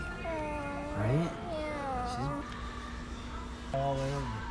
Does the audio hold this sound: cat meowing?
yes